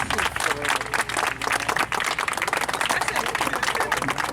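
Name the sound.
audience applause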